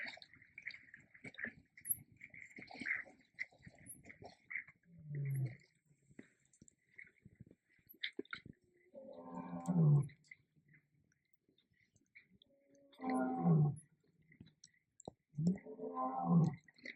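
Male lion roaring nearby in the Khwai River area of Botswana: three deep, drawn-out roaring grunts well apart, each swelling and fading, amid quiet night bush with faint clicks and insect noise, no talk.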